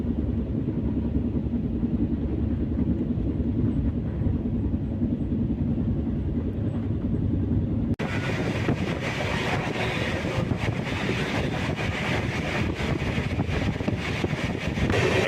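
The Chennai to Shivamogga weekly express rolls along steadily, a continuous rumbling clatter of wheels on rails that grows broader and louder halfway through, with wind buffeting the microphone.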